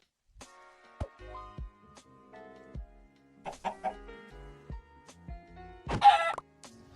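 A chicken in the Minecraft video game clucks in short, scattered bursts, with a louder squawk near the end and other small game sounds in between.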